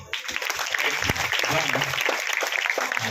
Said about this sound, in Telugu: పాప క్లాప్స్ కొట్టండి